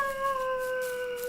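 A man imitates a wolf howling at the moon, holding one steady, sustained howl-like tone with a clear overtone for just over a second, loud and close with no other voices.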